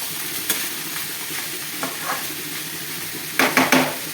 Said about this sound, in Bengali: আমি মশলাগুলো ভালো করে নাড়িয়ে নিচ্ছি লাউয়ের সঙ্গে